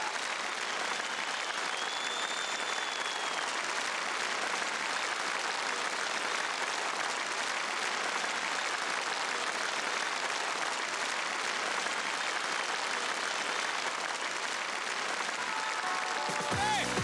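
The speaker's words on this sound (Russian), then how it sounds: "Ваша овация, Софья Михайловна." Audience gives a sustained ovation, dense continuous applause at an even, full level with no break, then cutting off abruptly at the very end.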